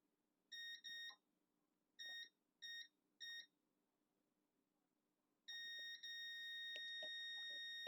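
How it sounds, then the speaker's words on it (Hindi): A multimeter in buzzer mode beeps while testing a shorted line on a Samsung M11 phone: several short, high electronic beeps in an uneven pattern, then a sustained continuous tone, clear against a quiet background. "तो देखिए यहाँ पर ना बीप आ रहा है"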